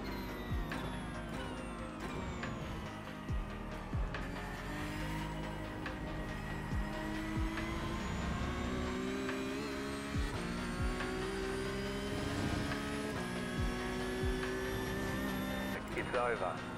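Porsche 992 race car in the iRacing sim at Road Atlanta, its engine droning and shifting pitch continuously through the laps, loud and steady, with a voice talking over it.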